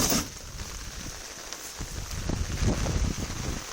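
Rain falls steadily during the rainy season in Korea, a dense, constant patter of drops on surfaces with some soft gusty rustle, heard alone without speech.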